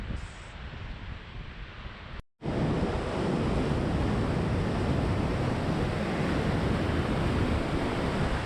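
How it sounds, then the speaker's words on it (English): The Bhilangana river's current roars as a loud, dense wash of broadband noise on a Himalayan trek, briefly cutting out then returning at full, steady strength. "The roaring sound of the river and its huge current is really a thing to fear."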